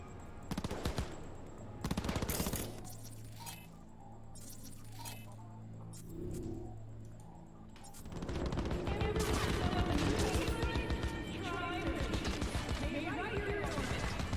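Gunfire from the video game Cyberpunk 2077, with bursts of rapid shots and clinking metal, then a long dense barrage of automatic fire. Quieter gaps with background game sound separate the bursts.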